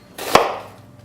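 A knife slices through garlic and an onion in a kitchen, making a single close, crisp chop against a cutting board.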